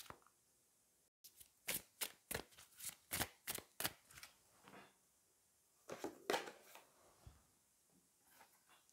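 Angel love oracle cards being shuffled and drawn by hand, a series of quiet crisp riffling snaps in a quick rhythm, then a pause and a few softer flicks, close with no talk.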